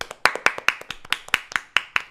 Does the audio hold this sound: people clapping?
yes